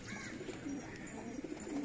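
Male pigeons at a pigeon sale coo softly and repeatedly, low murmuring calls close by with no talk over them.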